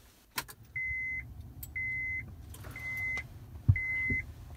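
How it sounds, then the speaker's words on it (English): Repeated electronic door chimes in a 2006 Honda Pilot as the key turns in the ignition: four steady beeps of equal length, evenly spaced, with a couple of clicks and a thump from the key and ignition between them. "I'm going to turn the ignition."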